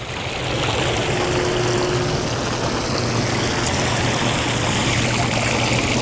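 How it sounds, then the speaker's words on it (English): A Caldera Spas Cantabria hot tub water feature gives continuous gentle trickling and splashing, steady and fairly close, with a low pump hum underneath and no voices. "Kind of creates this relaxing trickling water sound."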